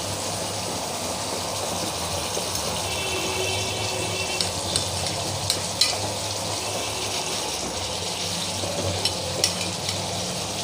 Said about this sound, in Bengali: এবার এই মশলার ভিতরে আমি মাছটা দিয়ে দেব।